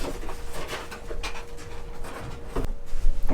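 Dogs pant indoors, a rapid rhythmic huffing that carries on throughout at close range over a steady background hum, with no talking.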